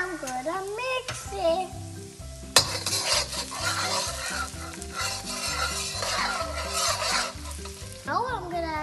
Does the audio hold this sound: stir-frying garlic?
yes